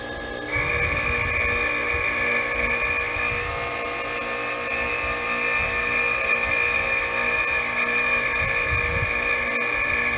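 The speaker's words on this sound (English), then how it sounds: "Let it grind and spark out." A dressed grinding wheel plunge-grinds the square face of a cylinder square, giving a steady, loud high-pitched whine with sustained tonal ringing and a constant machine drone underneath throughout.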